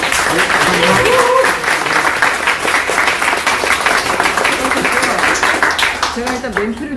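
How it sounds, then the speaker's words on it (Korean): An audience at a talk applauds warmly, with dense, sustained clapping. A voice speaks over the applause at times. "우리 장철영 행정사님께 다시 한번 박수"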